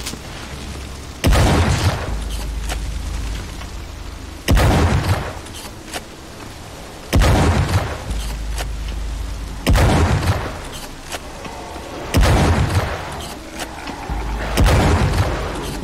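Shotgun fired in the video game Wrath: Aeon of Ruin, six heavy booming blasts spaced a couple of seconds apart, each loud and close with a short decaying tail over a low background rumble.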